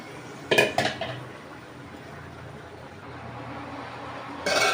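Tomatoes and rohu fish stirred in a large cooking pot: a couple of loud metal clanks and scrapes at the start and again at the end over a low continuous simmering hiss.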